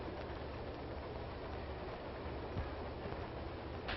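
A passenger train runs steadily, a continuous low rumble and rattle of the carriage heard from inside throughout, with no talk.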